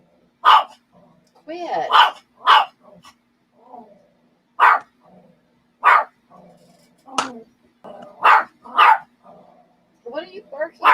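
Dog barking at a cat, a series of loud, close barks in irregular bursts, with a person speaking briefly in between.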